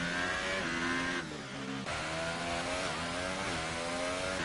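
An F1 car engine in a racing video game holds a steady high-pitched drone at moderate volume, with a brief dip in pitch partway through before climbing again, and no talking.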